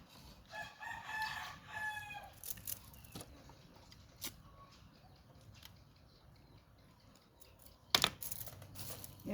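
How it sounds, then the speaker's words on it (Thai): A rooster crows faintly in the distance early on, under steady outdoor background noise, followed by scattered clicks and one sharper knock near the end. "ไก่ละ"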